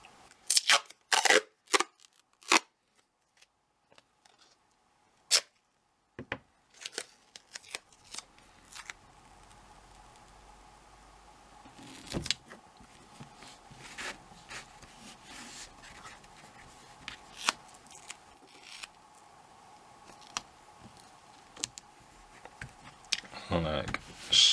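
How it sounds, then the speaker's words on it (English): Duct tape torn and pressed down to fix acetate sheet to a vacuum-forming frame: sharp intermittent rips and taps, a longer stretch of steady tape pulling midway, close and fairly quiet in a still room. "I'm going to take some duct tape and tape it to this frame here."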